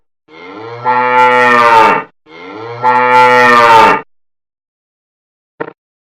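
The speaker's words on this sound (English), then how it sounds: "cow" A cow moos twice in long, deep, loud calls back to back, close to the listener, ending with a short click after a pause; no speech.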